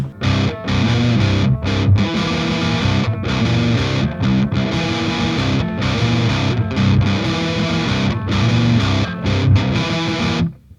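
A loud, distorted electric guitar plays a choppy riff with short rhythmic gaps between bursts of notes and chords, steady throughout.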